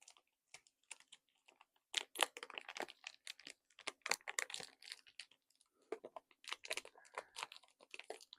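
A One Piece booster pack from the 500 Years in the Future OP-07 set is torn open up close in a quiet room, with a rapid series of crisp foil crinkles, tears and crackles in irregular bursts and no talking.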